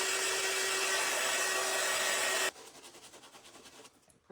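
A heat tool on its low setting dries paint on vintage decor being made into coastal holiday pieces, a steady close whooshing roar that drops sharply partway through to a softer, fluttering blow before cutting off.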